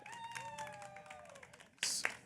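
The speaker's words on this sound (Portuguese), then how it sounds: "Salva de palmas" Audience applause at a literature and hip-hop cultural event, a burst of clapping breaking out near the end after softer background sounds with no talking.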